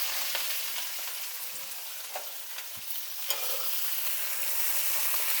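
Chopped carrot, bell pepper and cabbage frying with golden garlic for fried rice: a steady close sizzle with a few stirring clacks and scrapes, no talking.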